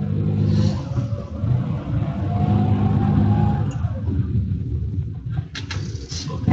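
A car drives slowly through city streets while searching for a parking spot near a park, its engine rumble and road noise steady and close, with a few brief sharp sounds toward the end.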